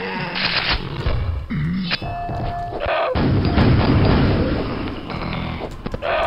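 Grenade blasts from grenade jumping in the video game Quake: loud, booming explosions and thuds pile up over several seconds, with one big rumbling burst in the middle, close and with no voices over them.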